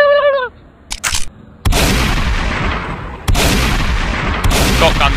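Shotgun blasts in the zombie video game Vanish Rain: three loud, close booms spaced a couple of seconds apart, each trailing off, with brief clicks and a short squawk-like tone before the first.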